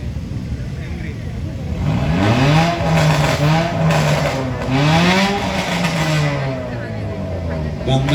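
At a drag race in Aceh, a race car accelerates hard, its engine climbing in pitch through several rising sweeps, loud and fairly close, while a voice talks over it.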